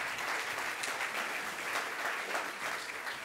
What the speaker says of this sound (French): Je voulais bien applaudir nos deux intervenantes.